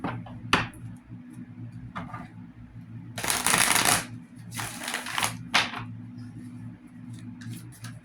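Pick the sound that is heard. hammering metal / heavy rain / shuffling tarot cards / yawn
shuffling tarot cards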